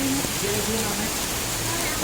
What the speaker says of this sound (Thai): โอ้โหฝนตกอ่ะ